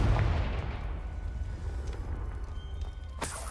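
A blast from the Confringo fire spell in a wizarding video game booms out loud at the start, then decays into a rumbling tail. A sharper crack follows near the end, with no talk.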